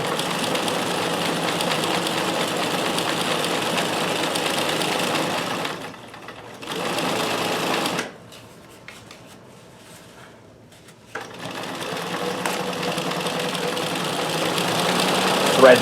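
Vintage sewing machine stitching with a stretch stitch cam, a steady close mechanical whirring hum that pauses twice, dropping to near silence for a few seconds before running again.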